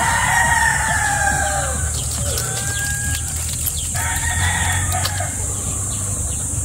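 Breeder chickens on a Filipino farm, with a rooster crowing in long drawn calls at least three times over steady clucking and flock noise, close and loud, no talk.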